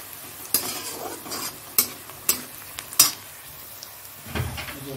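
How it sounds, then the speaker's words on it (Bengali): Onions sizzle and fry in mustard oil while a utensil stirs them, giving several sharp scraping clicks over a steady close hiss, with no talking. "এই পেঁয়াজটা এটাও দেখো লাল লাল করে মোটামুটি ভাজা হয়ে গেছে"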